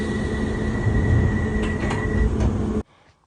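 A London Underground tube train pulls into the platform with a loud rumbling roar, a steady high tone and a few metallic clanks, then the sound cuts off abruptly near the end.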